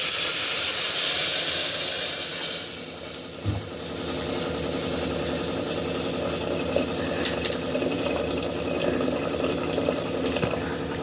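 Cooking water pours off boiled avarekalu field beans and nugge greens for Karnataka bassaru, a steady rushing splash and hiss that eases after a couple of seconds into a softer continuous trickle with small clinks.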